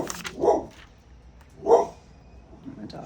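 A dog gives two distinct barks about a second apart, moderately close, in a quiet room with faint background noise.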